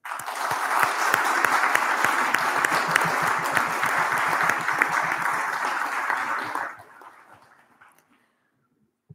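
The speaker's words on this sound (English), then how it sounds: "please give a round of applause to their families, friends and staff who've supported them on their journey." A round of applause at a graduation and award ceremony for a college and university centre fills the room with steady, dense clapping from a large audience, then fades away toward the end.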